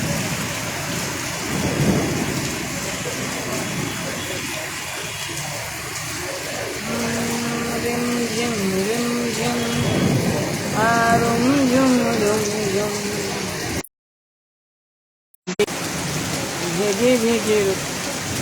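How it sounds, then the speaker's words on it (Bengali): Heavy rain pours steadily with deep rumbling thunder rolling through; faint voices come and go, and the sound cuts out briefly near the end. "এখানে কি হারে বৃষ্টি পড়ছে"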